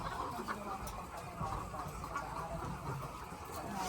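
Chickens cluck softly in a noisy coop, with a steady hum and rustling filling the background.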